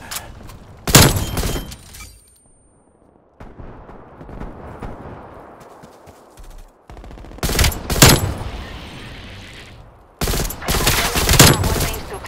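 Gunfire from the video game Call of Duty Black Ops Cold War: loud bursts of rapid automatic shots and explosive booms in separate volleys, with quieter rumbling battle noise between them.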